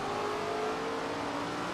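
Race car engine in the SRX racing video game at Slinger Speedway, a steady loud drone that swells slightly as the throttle comes on early, with a continuous engine whine and no talk.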